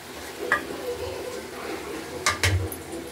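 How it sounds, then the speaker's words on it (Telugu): Masala spices and pepper stirred into a dish in a pan, with soft scraping and gentle sizzling plus a couple of sharper utensil clinks on the pan, close and steady. "దీన్ని కూడా బాగా మిక్స్ చేసుకోవాలి."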